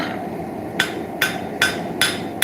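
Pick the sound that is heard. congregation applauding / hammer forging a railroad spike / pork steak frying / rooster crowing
hammer forging a railroad spike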